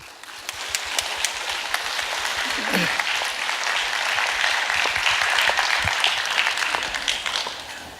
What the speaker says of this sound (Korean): 여러분 큰 박수로 맞아주시기 바라겠습니다